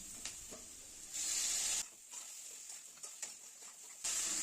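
A spice paste of ginger, cumin, turmeric and chili mixed with water hits a hot pan, giving bright bursts of sizzling hiss that swell, drop back to a soft crackle, then surge again.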